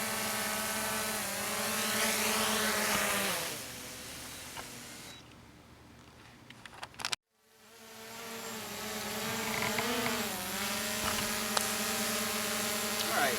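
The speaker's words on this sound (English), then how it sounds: "And I'm going to land the drone." A small drone landing: steady buzzing rotor whine with pitch shifting as it descends, dropping away as the motors cut, then spinning back up again.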